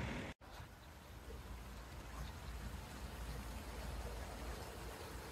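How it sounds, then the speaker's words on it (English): Steady, dense rain hiss fills the scene with a low rumble underneath, continuous and fairly loud after a brief dropout near the start. "Started raining like crazy all of a sudden."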